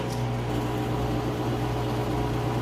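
An Amana HE top-load washer spins up to full speed with its drain running, giving a steady low hum and broadband whooshing noise that stays constant and close throughout.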